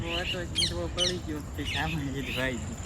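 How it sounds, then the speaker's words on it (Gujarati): Sharp, raspy parrot squawks burst out a few times against steady background chatter on a village farm near Botad, loud and close, with voices talking throughout. "પોપટ જાય બોલતા બોલતા"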